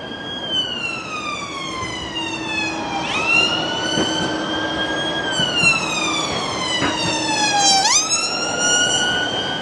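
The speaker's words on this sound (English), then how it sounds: "An ambulance" A wailing ambulance siren sweeps up and down continuously over steady traffic rumble, loud and fairly close, on the Blackpool seafront at Christmas.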